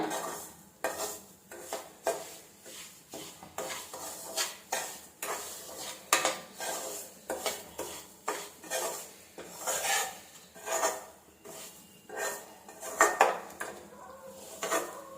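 Ingredients dry-roasted and stirred in a pan over a medium flame for Srirangam jeera prasadam, giving repeated close scraping clinks and clatter of a spoon against the pan with no talk.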